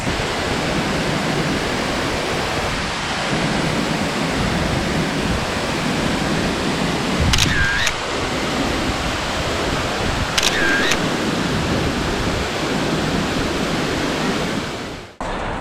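Wahkeena Falls in the Columbia River Gorge roars as a steady, loud broadband rush of falling water, continuous and close throughout with no speech, a couple of faint camera shutter clicks briefly audible over it.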